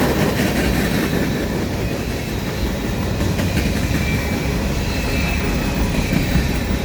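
A CSX manifest freight of battered gondola cars rolls past in morning fog, a loud continuous rumble with rattling and clanking wheels and faint squeals throughout, no voices.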